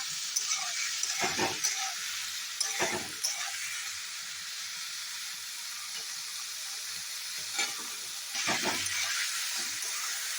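Steady hissing sizzle of bhetki fish frying in a pan over raised heat, interrupted a few times by brief scraping stirs, fairly quiet, with no talking.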